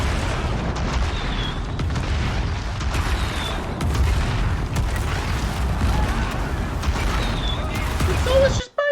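Magic explosions in Dragon Age, booming blasts and crackling fire rolling continuously in a loud battle, with voices talking over the din.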